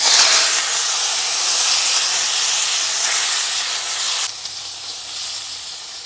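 Raw green plantain dropped into hot white cooking oil gives a loud, steady hiss that fills the first four seconds, then cuts back to a softer, continuing sizzle close by, with no voices.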